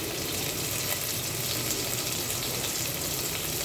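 Onions with masala spices sauté in oil in a pan for a chicken curry, a dense, even hiss of frying that stays constant and close without any pauses.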